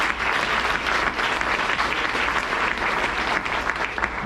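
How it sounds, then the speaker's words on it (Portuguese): A church congregation at an evening communion celebration service claps together in a steady, dense round of applause, moderately loud and sustained throughout, with no talk over it. "Vamos aplaudir o Senhor pela vida do nosso pastor."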